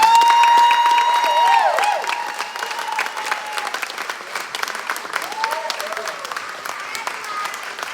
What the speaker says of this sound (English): How about a round of applause for all the girls who had the guts to get up here and try it?